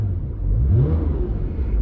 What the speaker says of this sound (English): it sounds like there's a bag of bolts rattling around in the engine bay